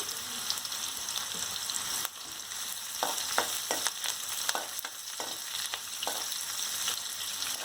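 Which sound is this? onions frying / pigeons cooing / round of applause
onions frying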